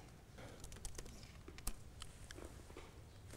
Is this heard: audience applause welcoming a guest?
no